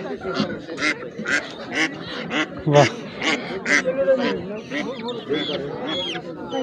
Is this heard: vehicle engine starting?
no